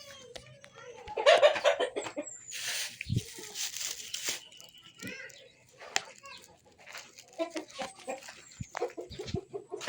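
Chickens cluck in short bursts near a talking person, alongside crinkling and rustling handling noises, moderately close with quiet gaps between.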